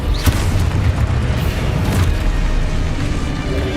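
Spell explosions in the Hogwarts Legacy video game, a dense, continuous booming roar with sharp bursts near the start and around the two-second mark, loud and without speech.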